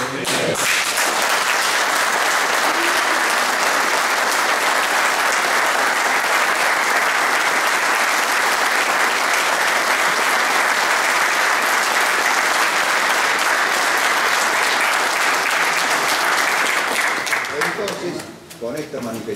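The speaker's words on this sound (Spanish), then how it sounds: "el aplauso de todos ustedes" Members at a volunteer fire brigade association assembly applaud to approve the new authorities, a long, even wash of many clapping hands that holds steady for most of its length before thinning out near the end.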